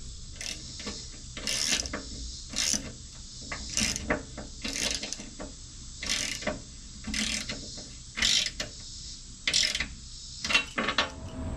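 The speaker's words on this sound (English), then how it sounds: "torque all these 4 bolts down that connect the new skid to the existing skid" Ratcheting clicks from a torque wrench tightening bolts on a Barnes 4WD oil pan skid for a Jeep Wrangler TJ, coming in repeated short bursts with brief pauses between them, close and fairly quiet.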